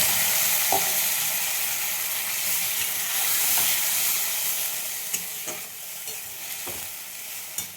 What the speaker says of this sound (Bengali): আলুগুলো ভাজা হয়ে গেছে, যে পেস্টটা করলাম ওটা দিয়ে দিলাম।